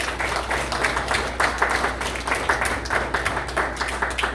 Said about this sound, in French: Eh bien, on applaudit la présence du Seigneur.